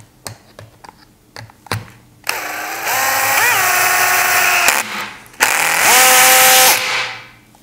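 A cordless drill drives a large carpentry screw into walnut wood, a few light clicks first, then two long loud whirring runs with a rapid ratcheting clutch chatter as the motor labors and slips.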